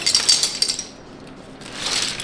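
Plastic keycaps from an Epomaker TH80 keyboard clink and rattle as they are handled close by, a quick burst of light clicks, a brief pause, then more soft clattering, no talk.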